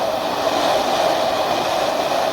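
Train approaching in a video game, a steady droning rumble with a sustained mid-range hum, loud and continuous with no talk over it.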